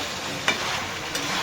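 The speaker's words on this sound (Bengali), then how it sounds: "এই যে ফুলকপি দিয়ে ভালো করে নেড়ে চেড়ে নিলাম একটু।" Cauliflower stirred in a hot pan for khichuri, a soft continuous sizzle with two quick scraping strokes of the spoon, close and alone.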